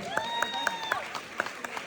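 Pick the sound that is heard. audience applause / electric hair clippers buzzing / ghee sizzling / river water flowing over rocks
audience applause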